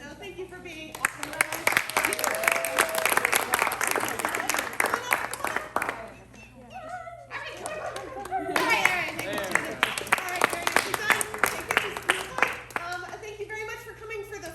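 A small audience claps after a playwriting showcase, in two bursts of sharp handclaps with a short lull between them. Voices talk and cheer over the clapping.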